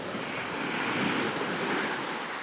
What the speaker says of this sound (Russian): Вы только посмотрите на эти белые волны. Эту пучину могучую.